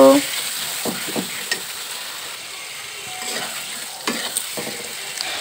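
Salt, turmeric and dry chilli powder fry in oil for a catla fish curry with potatoes, a soft sizzle broken by repeated scraping stirs of a spoon against the pan.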